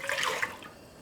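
Equal parts water and soy sauce poured for a vegetable pickle brine, a short splashing pour that trails off quickly, fairly close and with no one speaking.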